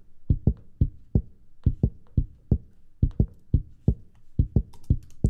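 Unprocessed kick drum in a dancehall mix, a steady run of punchy low thumps about twice a second with light clicky tops, playing alone and close without any talk.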